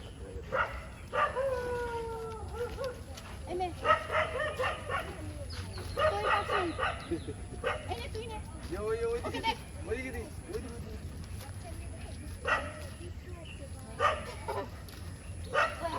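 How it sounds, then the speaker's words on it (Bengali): Dogs bark in short repeated bursts, moderately near, while a troop of monkeys lingers nearby in the morning; people talk intermittently over the barking. "ও কুকুরগুলো ঘেউ ঘেউ করছে তো গুলো ভয় পাচ্ছে"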